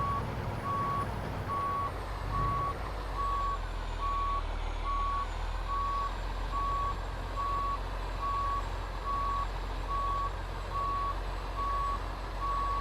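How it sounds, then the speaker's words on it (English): An International LT fleet truck backs up with its reversing alarm beeping in a steady, evenly spaced series over a constant low engine rumble, with no talking. "All of a sudden, when you back up"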